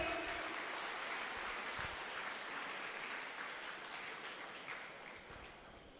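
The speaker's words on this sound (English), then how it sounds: "Clap loudly, please." Audience at the Innovate Tamil Nadu seminar claps for an invited guest of honor, a soft, distant, continuous patter of many hands that slowly fades, with a thin steady tone running above it.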